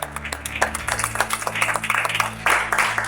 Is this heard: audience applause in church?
yes